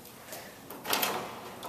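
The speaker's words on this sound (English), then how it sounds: "Heading through the wooden door." A wooden door at a spa entrance swings open with a brief creak and soft rush of air, short and fairly close.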